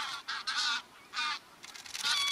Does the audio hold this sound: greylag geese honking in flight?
yes